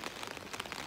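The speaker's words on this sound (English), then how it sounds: "The rain is falling." Rain falls outdoors as a soft, steady patter of drops on surfaces, faint and continuous for a brief moment.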